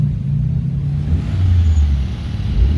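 A Ford Capri RS at the Nürburgring gives a steady, deep engine rumble, fairly loud and close, swelling slightly midway, with no voices.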